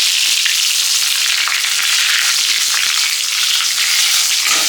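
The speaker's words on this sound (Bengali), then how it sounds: "এখন আমার তেলটা গরম হয়ে গেছে, এখানে আর এসে লঙ্কা আর এসে তেজপাতা" Green chilies and whole bay leaves sizzle in hot oil in a home kitchen, making a steady, loud, close frying hiss with crackling spits and pops that runs the whole time and has no voices over it.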